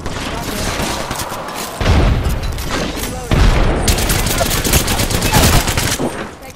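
Dense, rapid automatic gunfire in the battle royale game Apex Legends: overlapping bursts and single shots crackle loudly and almost continuously, with heavier volleys striking in near the midpoint.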